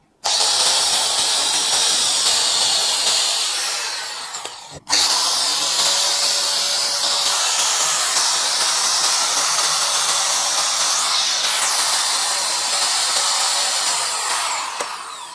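A DongCheng DSM14-100 paddle-switch angle grinder runs with a steady, loud high-pitched whine that cuts off briefly near five seconds, then spins back up and holds alone.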